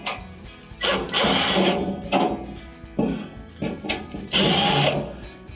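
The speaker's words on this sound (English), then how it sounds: "we have to take out these two Phillips screws" Phillips screws being backed out of the lint screen housing on a Kenmore clothes dryer, giving several close mechanical whirring bursts of a driver separated by short pauses.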